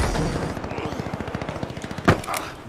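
Video game combat with rapid machine-gun style gunfire in a steady rhythm, capped by a sharp, loud RPG blast and grenade explosions near the end, all close and intense.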